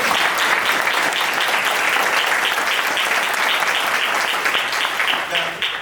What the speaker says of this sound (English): I want you to clap it up for them because they need to hear it